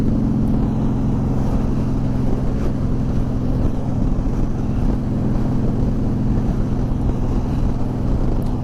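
Loud, constant wind rush buffets the microphone while riding a 2011 Honda VT1300 Fury cruiser motorcycle in cold weather, with a low steady engine drone underneath throughout.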